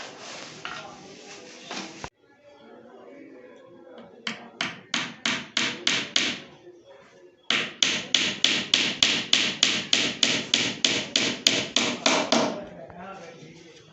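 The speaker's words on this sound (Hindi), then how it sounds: "और अब इसके ऊपर कील लगाए जाएंगे।" Nails are hammered into a wooden cupboard door at home in runs of sharp, evenly spaced close blows, about six in a first burst and around fifteen in a longer second run, with faint background sound between.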